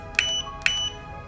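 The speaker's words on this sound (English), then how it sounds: "You can hear that audible beep going off" Two short electronic beeps, evenly spaced about half a second apart, from the test button of a Godox AD100 Pro pocket flash, close and clear over quiet room background.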